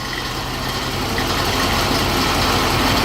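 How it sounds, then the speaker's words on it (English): An engine with FiTech fuel injection idles steadily around 650 RPM, giving a constant close low rumble with no revving. "I've set the idle at a target of 650 RPM, and right now it's hovering around that RPM pretty well."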